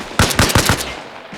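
An AK rifle fires on a vehicle in a video game, its rounds punching into a fuel tank: four loud, rapid shots in a tight burst, then a fading tail and one faint later thump, with no talk.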